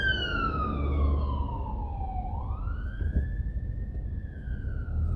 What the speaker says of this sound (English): We got a truck coming here. Fire truck. You can probably hear it.